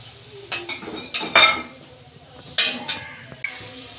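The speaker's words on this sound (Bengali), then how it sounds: "ঢাকনা খুলছি" A metal lid is lifted off a pot of cooking snake gourd and potato with poppy seed paste, giving several close clanks and clinks against the rim, with a quiet sizzle underneath.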